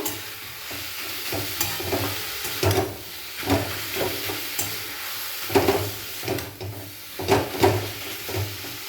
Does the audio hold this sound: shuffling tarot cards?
no